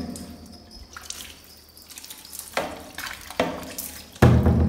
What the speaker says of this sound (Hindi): अब पानी चारों तरफ डाल दें